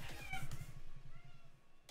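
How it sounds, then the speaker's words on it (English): A female house cat yowls behind someone indoors, a drawn-out, wavering meow repeated in a couple of loud, close bursts with a short sharp noise near the end; no one speaks. "My cat just decides she wants to sit behind me and yowl"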